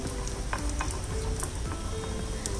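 Bread cheese kachori fry in hot oil with a continuous, even sizzle and small crackles, fairly quiet and with no voices.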